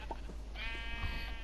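A sheep in Minecraft gives a single wavering bleat, clear and close against a low background hum.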